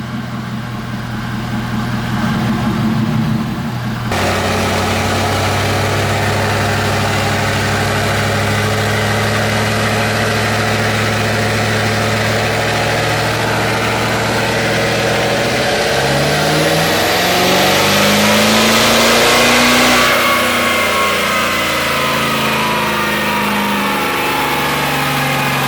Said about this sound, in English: It's the first dyno pull with this thing in probably about 2 years.